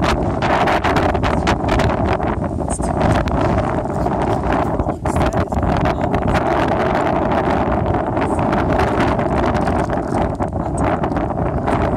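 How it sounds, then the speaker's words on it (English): Steady wind buffeting the microphone, a constant low roar with gusty rumble and no talking throughout. "It's very cold and windy."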